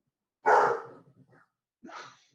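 Dogs bark in the background of a remote budget meeting: one loud, close bark followed a beat later by a second, shorter one, with no talking.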